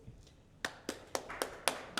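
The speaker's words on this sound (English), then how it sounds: "let's give another big round of applause for our panelists" Scattered, sparse clapping from a panel audience, about six sharp separate claps spread over two seconds rather than full sustained applause, fairly quiet.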